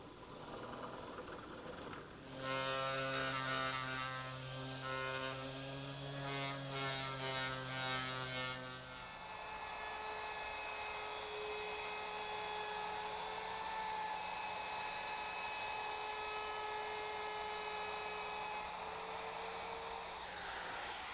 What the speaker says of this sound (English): I'm enlarging the hole in the wheel to receive the 3/8-inch axle.